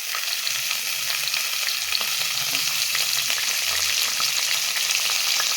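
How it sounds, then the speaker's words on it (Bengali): Cashews and raisins fry in white oil in a wok, a dense, steady hiss and sizzle with faint stirring scrapes, loud and continuous with no talking. "কাজু কিশমিশটা খুব ভালো করে ভাজা হয়ে গেছে"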